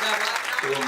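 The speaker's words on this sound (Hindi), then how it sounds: "एक बार जोरदार तालियों से मुझे इजाजत दे दें।" Mushaira audience at an all-India Independence Day poetry gathering in Sakinaka applauds, a dense wash of clapping with a voice faintly over it near the end, brief and loud.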